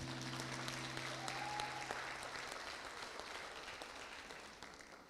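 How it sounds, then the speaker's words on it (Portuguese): Church congregation applauding during a service, sustained dense clapping that fades gradually toward the end, with a held tone early on. "Vamos aplaudir Jesus"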